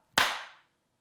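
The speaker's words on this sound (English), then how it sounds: "we're going to give them a clap" One sharp hand clap rings out alone, close and crisp, then decays quickly into silence.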